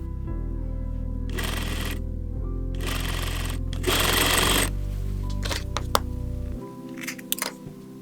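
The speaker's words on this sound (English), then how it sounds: "sew your ribbon to the seam allowance just a few millimeters or 1/8 of an inch away from the original seam" Sewing machine stitching ribbon onto the seam allowance of a panelled bucket hat, a steady motor hum with several bursts of rapid needle clatter, then stopping with a few light clicks and handling sounds.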